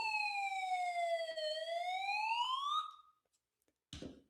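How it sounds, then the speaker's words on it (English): A single electronic siren sound effect wails in one long slow sweep, falling then rising in pitch, loud and close, before cutting off into silence and a brief noisy burst. "We're sounding the siren."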